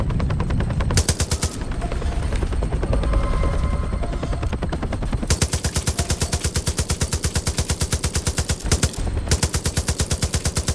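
Helicopter side-mounted machine guns in Far Cry 5 fire in long rapid bursts over a steady rotor roar, loud and close, with a short burst early on and sustained fire through the second half.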